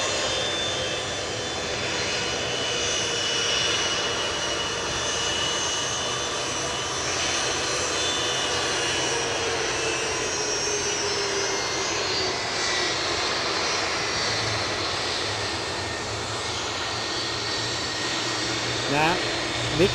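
An ATR turboprop airliner rolls for takeoff at Edinburgh Airport, a steady, loud engine roar that holds evenly throughout with a faint rising whine, distant voices murmuring underneath.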